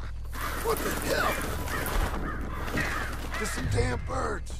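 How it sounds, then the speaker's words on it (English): Crows cawing in the video game Red Dead Redemption 2, several harsh repeated caws scattered irregularly across the scene, moderately near, over a low ambient hum, with a voice speaking briefly among them. "Just some damn birds."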